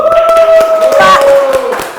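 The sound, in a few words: clapping for a podcast guest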